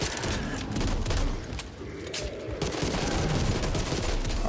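Gunfire in the Back 4 Blood video game, a steady stream of rapid shots with a short dip before resuming, fairly quiet overall and sustained throughout.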